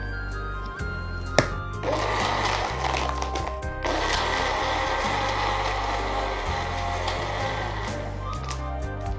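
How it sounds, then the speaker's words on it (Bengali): A blender whirring steadily as it blends a smoothie, a loud close motor drone with pitch drops as the load shifts and a brief clatter near the start. "এবার আবারও ভালো করে ব্লেন্ড করে নিচ্ছি।"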